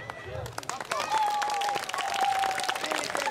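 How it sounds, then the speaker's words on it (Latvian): A crowd at a brass orchestra festival concert in Līgatne applauds the Līgatne brass orchestra with steady, dense clapping that swells after the first half-second. A faint sustained tone runs underneath. "Ar aplausiem."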